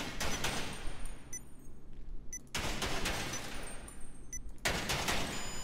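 Rapid automatic gunfire from the video game GTA 5 comes in loud sustained bursts, cutting off briefly around the middle before resuming, with no one talking.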